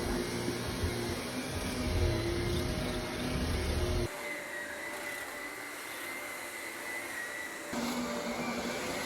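A vacuum cleaner runs while cleaning an office, a loud steady motor whine and airflow roar that abruptly drops to a quieter hum midway, then returns at full strength.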